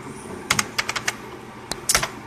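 Computer keyboard typing comes in short clusters of sharp, close keystrokes with brief pauses between them, over a low steady hum.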